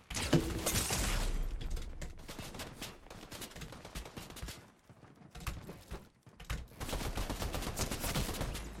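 Rapid assault rifle bursts in a Fortnite match, dense sustained gunfire with short gaps and dips, loud and close throughout with no talking.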